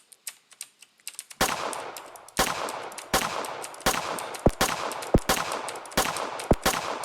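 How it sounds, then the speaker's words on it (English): Gunfire in a top-down shooter game, shooting through a wall: a few light clicks, then sharp loud bursts in repeated volleys separated by brief gaps, with occasional single cracks. "Right now I'm shooting through the wall itself"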